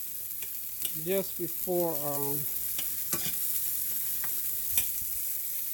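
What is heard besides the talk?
sautéing food in a pan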